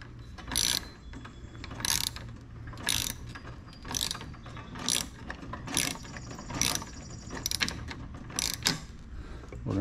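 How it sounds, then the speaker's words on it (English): A ratchet on a Toro TimeMaster mower clicks in about nine quick bursts spaced a second or so apart as an adjustment is tightened down, close up with no talking. "once it's in there snug, we're going to tighten it back down"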